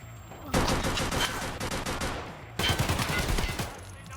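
Rapid bursts of automatic gunfire in Escape from Tarkov, loud and close, with a short pause near the middle before another sustained volley, plus faint background talk.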